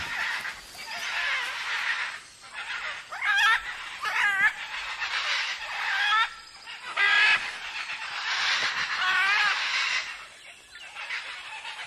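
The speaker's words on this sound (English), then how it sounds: "The young, non-breeding pairs and adolescent birds gather and playfully squabble in the palm trees, their favorite nighttime accommodation." Macaws squabble in palm trees, harsh raucous squawks and screeches overlapping in bursts throughout, fairly close and loud with no talking.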